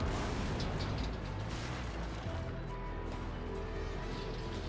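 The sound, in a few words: tank firing to destroy a building in a video game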